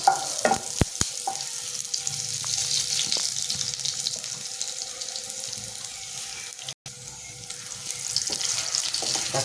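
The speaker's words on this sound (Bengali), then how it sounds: "আলুটা একটু ভাজা হয়ে গেছে" Potatoes frying in a pan for a Bengali thankuni leaf shukto, a steady soft sizzle with a few sharp utensil knocks early on and faint kitchen clatter, no talking.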